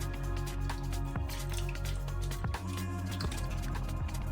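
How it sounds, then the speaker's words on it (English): A liquid quiche mixture is poured into pastry with soft drips and wet splashes over a steady humming background tone. "we're gonna pour our liquid inside the pastry."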